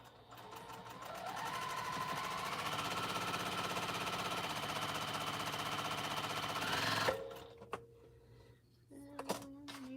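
A sewing machine runs steadily for about seven seconds, stitching the sides of a dress, then stops, leaving quiet room sounds and a few light clicks.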